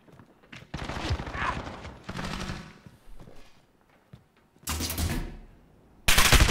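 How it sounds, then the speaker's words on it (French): Gunfire in Call of Duty Modern Warfare multiplayer comes in several loud, close bursts separated by short pauses, the last one abrupt and harsh. "ça vient d'où ces tirs?"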